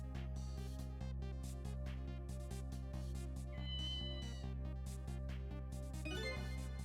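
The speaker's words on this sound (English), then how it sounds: "black cat." A black cat meowing in the video game Ghost Trick: Phantom Detective, a short cat call over steady, looping game music.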